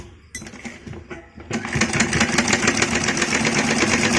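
A sewing machine stitching a strip along the edge of a baby's kurti fabric; a few short taps and pauses, then a continuous fast, close mechanical whir running steadily to the end.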